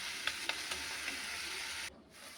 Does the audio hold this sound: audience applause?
no